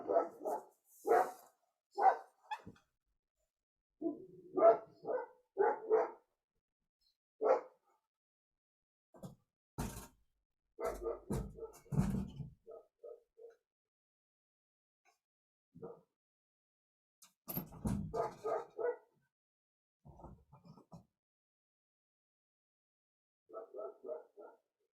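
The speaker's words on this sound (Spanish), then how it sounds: "Voy a cerrar un poquito la ventana porque este perro mete mucho ruido." A dog barks outside a window in bursts of several barks with pauses between them, heard at moderate distance and alone without talk.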